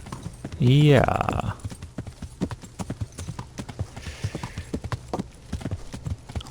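Horse hooves gallop in Kingdom Come: Deliverance, a steady rapid clip-clop running under the whole stretch, with a loud neigh near the start and a brief spoken word from a player.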